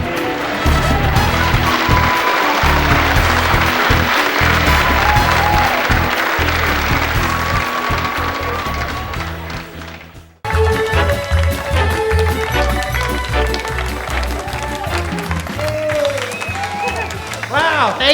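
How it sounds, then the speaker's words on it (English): A convention audience bursts into sustained, loud applause that lasts about ten seconds and fades out abruptly, followed by someone speaking over quieter clapping and crowd noise. "That's nice to get all that applause without doing anything."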